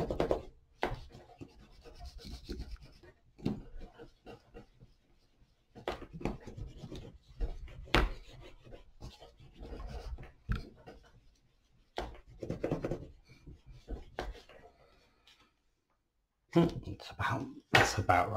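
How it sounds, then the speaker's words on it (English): A spoon burnishing paper over an inked lino block makes close, dry rubbing and scraping strokes in irregular bursts, with short pauses between passes. "Burnish that."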